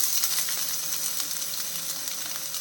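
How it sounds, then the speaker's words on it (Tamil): Chopped onion and green chilli saute in oil in a pan for egg curry, a soft, continuous, even sizzling hiss with no voices over it. "இது வந்து வெங்காயம் நல்லா ப்ரௌன் ஆகிற வரைக்கும் வதக்கணும்"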